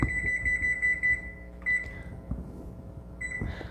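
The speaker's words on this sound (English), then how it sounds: "now we just got to set our timer" A kitchen timer, set while baking cookies, gives a fast run of high electronic beeps, then a short chirp and a last brief beep, over faint kitchen clatter.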